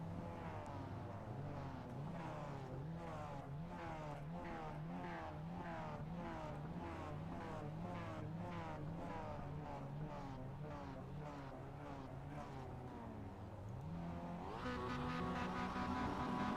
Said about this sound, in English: the revs are rising then here at Silverstone